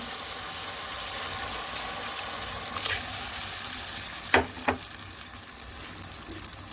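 Milk is poured over roasted semolina with dates for khajoor halwa and sizzles in the pan. A soft, steady hiss carries a brief liquid splash and a couple of light clinks midway.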